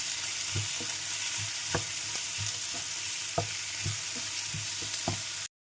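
Shredded cabbage and other vegetables sauté in a pan for chapathi noodles, a steady close sizzle underneath repeated soft knocks and scrapes of the spatula, ending abruptly.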